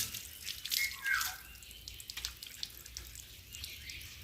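Water running while shampoo is rinsed off a small pet dog: a soft, steady stream with splashy bursts, heard alone and fairly faint throughout.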